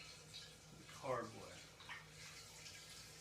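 Cranberry juice pours into a glass carboy in a brief splashing gurgle that swells and fades, with faint background noise around it.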